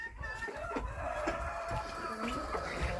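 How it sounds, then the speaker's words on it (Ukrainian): A hen clucks in a rural poultry yard, with soft intermittent clucks among other fowl sounds and quiet background noise throughout. "Тут у нас курочка"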